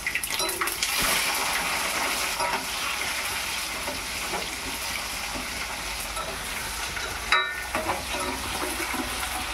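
Onions fry in a pan of hot oil alongside chillies, garlic and coriander seeds, giving a dense, steady sizzle with occasional stirring scrapes, loud and close throughout.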